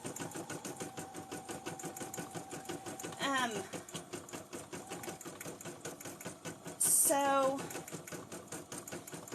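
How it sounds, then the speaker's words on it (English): An embroidery machine with a 5x7 hoop stitches out orders with a fast, steady mechanical chatter. Someone talks over it, and there are two brief louder bursts. "my other machine, it has a 5x7 hoop, and I use it when I'm stitching out orders"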